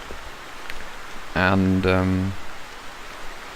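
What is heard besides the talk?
rain in video game The Hunter 2013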